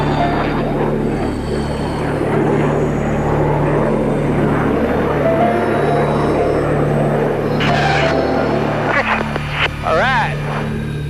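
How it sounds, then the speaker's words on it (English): F-18 Hornet jets at an airshow during a US Navy flight demonstration, a loud, continuous jet roar with a steady low drone and a rising whine near the end, under a public-address announcer's voice. "In order to demonstrate the tactical roll rate of these F-18 Hornets, our two solo pilots crossing over center point will execute a series of maximum stick deflection horizontal rolls."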